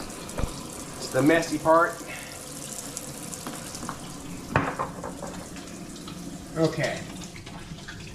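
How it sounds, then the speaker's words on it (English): Tap water runs into a kitchen sink during hands being washed while cooking baby back ribs, with intermittent splashing bursts close by, and people speak briefly over it. "All right, wash the hands again."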